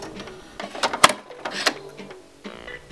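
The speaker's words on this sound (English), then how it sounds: "Then it was time to sew up the spaghetti straps." A sewing machine stitches spaghetti straps for a cowl neck dress, its motor whirring in short uneven bursts with clicks and a sharp mechanical knock in between.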